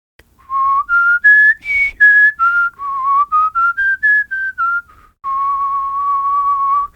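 A person whistles a melodic line of clear, pure tones stepping up and down, ending on a long sustained note.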